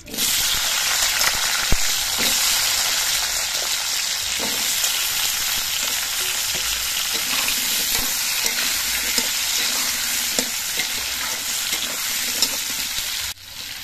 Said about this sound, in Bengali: এবার কড়াইতে যে তেল আছে এই তেলের মধ্যে আমি আলুগুলো ভেজে নিচ্ছি।